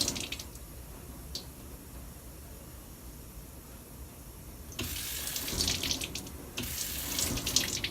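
Tap water runs steadily into a sink while arms are rinsed, first as a soft trickle, then louder and fuller splashing over the last few seconds with a brief pause between.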